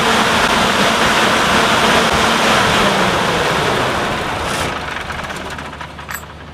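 A generator engine roars loudly and steadily, then winds down and fades after its battery wire is pulled, leaving a quieter rumble with a few faint clicks at the end.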